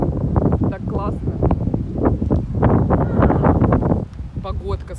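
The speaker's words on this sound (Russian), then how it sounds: "ну ветер сегодня прям очень сильный" Strong gusting wind buffets the microphone by the sea, a continuous loud roar with rustling throughout the whole stretch.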